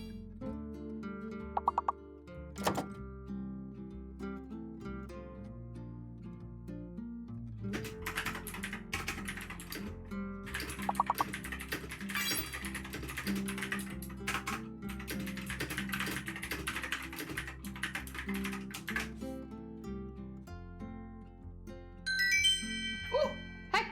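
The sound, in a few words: typing on a computer keyboard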